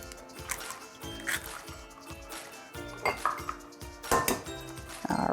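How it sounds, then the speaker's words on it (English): Dishes and utensils clink in a mixing bowl as two whole eggs go in for strawberry quick bread, a run of close, light clatters and taps repeating through the clip with no talking. "So to this bowl, I'm going to add 2 whole eggs."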